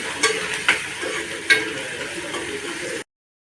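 Spices, including a pinch of asafoetida, sizzle in hot oil for a ridge gourd and dal dish. A steady, close frying hiss is broken by a few light clicks and stirs, then stops abruptly into silence.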